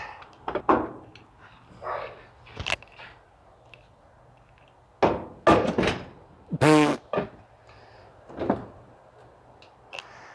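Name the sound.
Corvette C3 door banging loose during body removal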